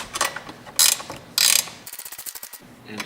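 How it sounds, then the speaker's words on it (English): Close ratcheting of a 10 millimeter wrench tightening bolts underneath an electric ATV, made up of scattered clicks, two loud bursts of fast ratcheting and then a rapid run of quieter clicks. "we're going to use our 10 millimeter wrench just to tighten up the bolts on the bottom"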